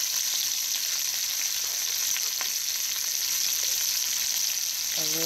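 Onion and mushrooms sizzling in butter in a pan, a steady close frying hiss that carries unbroken throughout, with a short voice at the very end.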